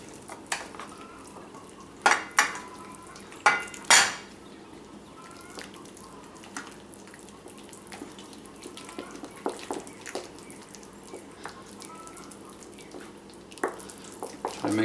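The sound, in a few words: mixing breadfruit pancake batter with salt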